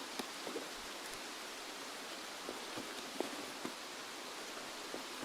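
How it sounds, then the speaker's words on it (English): Steady, hissing rain falls in the video game Escape From Tarkov, a soft, even wash with scattered faint ticks and patters throughout. "Because the rain is really loud."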